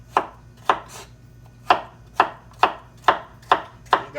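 A knife slices a seeded cucumber on a cutting board, giving about nine crisp, evenly spaced chops close up, with no voices.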